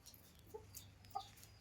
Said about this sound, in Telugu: కోళ్ళు ఇవి చూడండి, పెద్ద పుంజు.